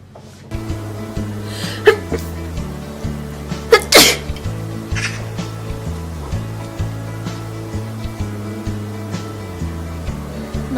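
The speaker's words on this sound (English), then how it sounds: "Bless me! I've sneezed." Hay fever sneezes from a person, with a sharp loud burst near the middle and a couple of smaller sneezy bursts around it, close up over a droning background music track.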